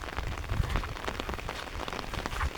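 Rain pouring onto rice fields, a brief continuous wash of dense pattering drops, near and even in level.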